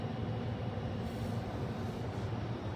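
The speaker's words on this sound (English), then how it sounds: "Let's look back at the bullet train." A Japanese bullet train passes as a continuous low rumble and rolling rail noise, steady and fairly loud, with no talk over it.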